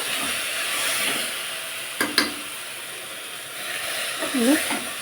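Dill greens frying in a pan give a soft, steady sizzle, with a couple of brief utensil knocks partway through and a voice speaking faintly near the end.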